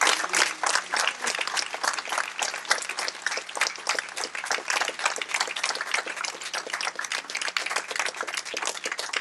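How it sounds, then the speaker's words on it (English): A mosque congregation in Los Angeles applauds itself, sustained crisp clapping from many hands at a steady even level with rapid individual claps audible throughout. "Let's give ourselves a round of applause."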